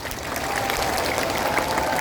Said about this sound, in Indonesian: kita tepuk tangan untuk pastor paroki dan pastor pendamping